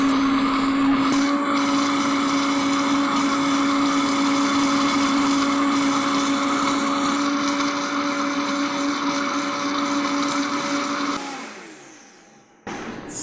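A blender on high speed mixes green taco sauce made with oil and salt in a pitcher, running as a loud, steady whine for about eleven seconds before winding down and stopping.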